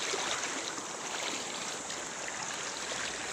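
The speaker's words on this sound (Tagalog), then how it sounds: "sa sobrang lakas ng ng agos ng tubig na ito" Strong, swift stream current after a typhoon in a rural province, a dense continuous roar of rushing water, close and steady throughout with no voices.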